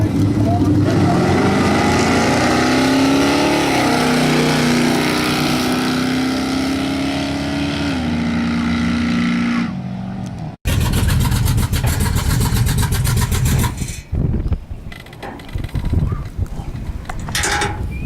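A 1983 Chevrolet Silverado with a turbocharged 350 drag races, its loud engine droning and climbing through the gears before a sudden cut, then a roaring pass, with talk over it.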